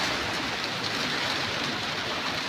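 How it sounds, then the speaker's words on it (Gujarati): Rain pours steadily over an open farm field, a dense, even hiss that fills the whole moment, loud and close with no talk. "વરસાદ ચાલુ થઈ ગયો"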